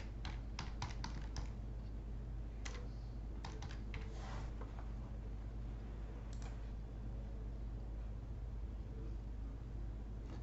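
Typing on a computer keyboard, scattered bursts of quiet keystrokes over a steady low hum, faint and close, with pauses between clusters of taps.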